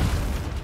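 A short, loud booming burst from an explosion in the Gears 5 shooter, deep and roaring with no speech over it.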